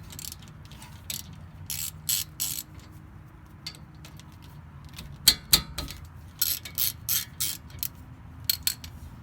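Ratchet clicking close by as 12mm caliper bolts come off a Honda Civic Si during a brake pad and rotor change, quick bursts of pawl clatter in several separate runs with short pauses between them, no talking.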